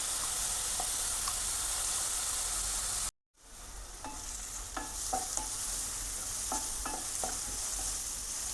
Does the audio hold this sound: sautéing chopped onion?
yes